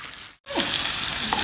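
Hot oil in a pan erupts into a loud, close, continuous sizzle right after a brief moment of silence, with faint stirring in the crackle.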